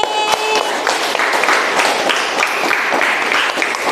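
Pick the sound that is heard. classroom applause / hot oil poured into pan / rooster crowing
classroom applause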